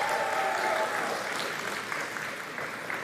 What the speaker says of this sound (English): give it applause for him